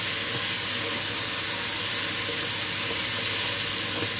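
Pasta sauce with meatballs, peas and chopped tomatoes sizzling steadily in a pan while being stirred, a continuous close, bright hiss with faint scraping and no talk.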